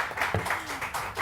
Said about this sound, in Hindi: तो सबसे पहले किरण के लिए बहुत सारी ताली.